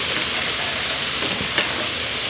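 Onions sizzling on a Blackstone griddle, a loud, dense hiss that holds steady throughout, with a brief scrape near the end.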